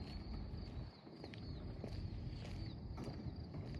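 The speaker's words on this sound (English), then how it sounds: "he's hammering. He's hammering right here now." Faint, distant hammering, a series of irregular knocks over a low outdoor rumble.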